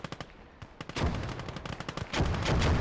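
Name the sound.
mortar and gunfire in a war video game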